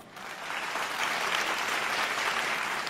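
A studio audience at a televised dating show breaks into applause, quickly swelling to a dense, steady wash of clapping that carries on evenly without talk.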